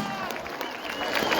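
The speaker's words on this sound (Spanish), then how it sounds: "Esas palmas para nuestro torero, el Cóndor Gravino" Crowd clapping steadily at a rural bullfighting afternoon in Tintay, Aymaraes, Apurímac, honoring the bullfighter; dense, continuous applause of moderate loudness fills the whole stretch, with faint voices mixed in.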